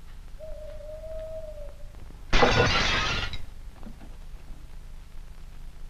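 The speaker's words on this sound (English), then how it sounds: "Watch me cut glass." Window glass shatters in a 1940s British mystery setting: one loud, sudden crash with a spray of breaking shards that lingers about a second before fading, after a faint steady tone beforehand.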